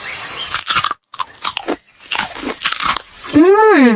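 Cookies crunch loudly and close up in a series of crisp bites and chewing bursts, with short pauses between them and a brief whooshing sound at the end.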